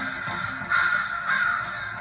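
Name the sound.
crows cawing harshly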